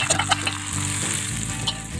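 A hot tempering of onion, red chilli and garlic is poured into a pot of chicken kadhi and sizzles loudly, with a few sharp spattering bursts at the start and then a steady frying hiss.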